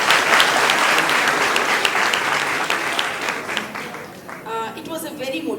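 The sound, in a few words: audience applause after a speech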